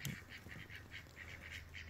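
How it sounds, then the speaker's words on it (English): Ducks quack in a rapid, repeated series at sunset beside Paradise Creek, the calls close and fairly steady over a faint background hum, with no voices. "Here comes the duckies, George."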